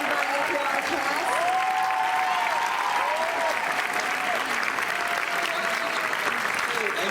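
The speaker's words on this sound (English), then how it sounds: "Let's give a round of applause for everybody for our cast." Sustained audience applause for a TV series cast at a San Diego Comic-Con panel: dense crowd clapping with a few whoops and cheers rising over it, continuing unbroken for about seven seconds.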